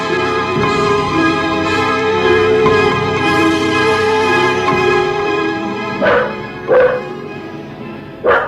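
Dog barks used as a sound effect in an audio drama, a few sharp yelps rising near the end over a sustained musical bed, fairly loud and close.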